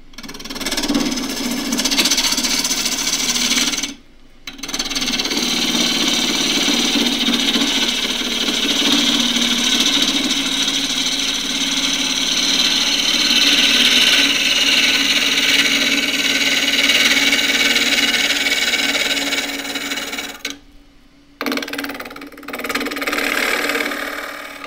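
A wood lathe spins while a half-inch spindle gouge cuts face work, producing a loud, sustained scraping hiss over a motor hum, interrupted by two short pauses as the tool lifts away.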